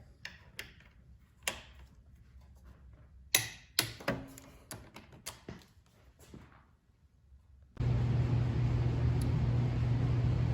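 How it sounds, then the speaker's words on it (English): Torque wrench tightening bar riser bolts to 26 foot-pounds, giving a series of sharp ratcheting clicks and ticks close by, followed by a steady broadband noise that masks the last few seconds. "We're going to torque these up again to the 26"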